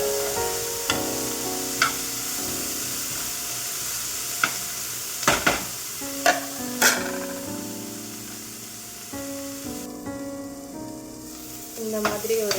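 Vegetables sautéing with salt in a pan, a steady soft sizzle with a few sharp clicks and stirring scrapes over a tonal background.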